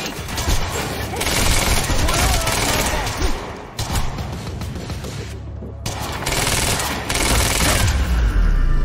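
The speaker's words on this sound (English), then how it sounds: "Why the hell is Monarch firing at us?" Sustained automatic gunfire from Monarch soldiers in a video game firefight, loud dense volleys with brief pauses and booming impacts, close and continuous, with some voice mixed underneath.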